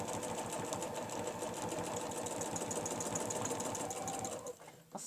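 A sewing machine stitches a quilt along a ruler in a rapid, steady mechanical chatter for about five seconds, stopping briefly near the end.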